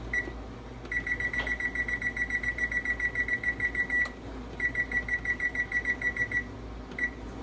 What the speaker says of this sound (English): I'm going to set my timer for 35 minutes.